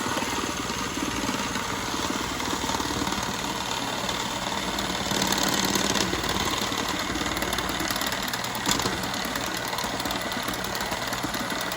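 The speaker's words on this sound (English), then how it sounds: "He is being very kind and helping me whip that cream." Cream is being whipped with an electric mixer. A steady, continuous motor whir holds at an even level throughout, close and fairly loud, with no talking.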